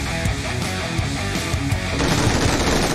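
Gunfire in a battle royale video game: sustained close automatic bursts crackling loud and dense, then a heavier, harsher stretch of fire in the final second, with no talk.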